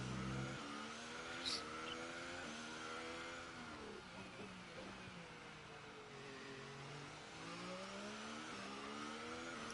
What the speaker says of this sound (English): he's trying to rev up the car to max speed along this very long front stretch